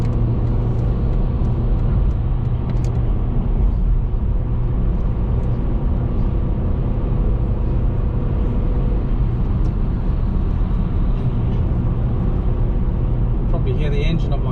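Steady engine drone of a car with a 1.6 litre petrol engine at motorway speed on the M6 in the UK, a continuous loud rumble with road and wind noise throughout and no talk.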